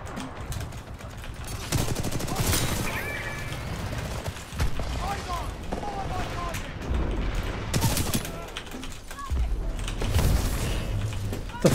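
Gunfire in the Titanfall video game: rapid bursts of automatic shots and heavy booms repeat throughout amid busy combat noise, with someone talking over the action.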